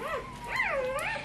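A Goldendoodle puppy from a young litter gives a short, close, high wavering whimper, a couple of rising and falling whines in quick succession.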